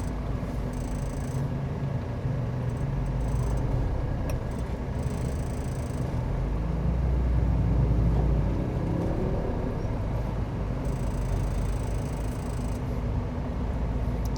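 Jammed road traffic at Bundaran Waru, the busy roundabout between Surabaya and Sidoarjo: a continuous low rumble of engines idling and creeping, with occasional higher tonal whines, steady and moderately loud.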